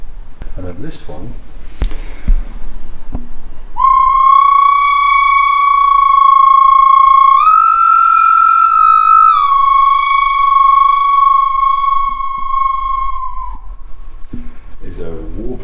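A whistle vessel from a gong and sound-instrument collection gives a sustained warbling whistle, steady at first, then rising slightly in pitch, wavering in the middle and settling back before it stops. Brief taps and handling noises come before and after it.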